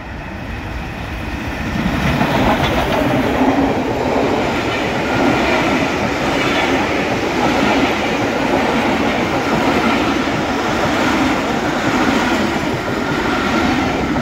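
A Black 5 steam locomotive and its train pass on a line near Shoreham-by-Sea. Quiet at first, the sound swells after two seconds into a loud, sustained rumble of rolling wheels with rhythmic clatter continuing to the end.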